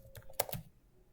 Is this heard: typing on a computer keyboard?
yes